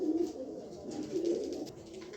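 A top-quality female pigeon gives two soft, low coos close by, about a second apart, against a quiet background.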